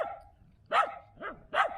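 A dog on a cable run barks three times, sharp and fairly close, with pauses between barks and no talking.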